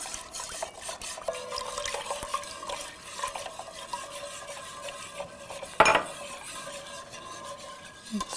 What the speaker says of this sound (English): I'm just going to whisk that together real good.